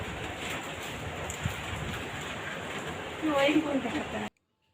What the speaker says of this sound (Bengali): আর দেখো কি সুন্দর বৃষ্টি হচ্ছে।